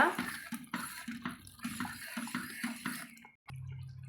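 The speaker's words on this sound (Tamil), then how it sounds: "ஜாரில் தண்ணி சேர்த்து நான் இப்போ சேர்ந்துட்டேங்க" Water splashes and pours in uneven bursts from a jar into a cooking pot of potato kurma, close by, then stops abruptly, leaving a low hum.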